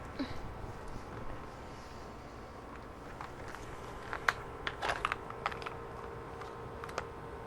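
Sparse, faint keys tapped on a wireless computer keyboard, a few scattered clicks clustered together against a quiet room hum, with no talk.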